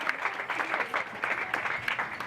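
Wedding guests give a brief round of applause, a moderate, even patter of many hands clapping at a little distance.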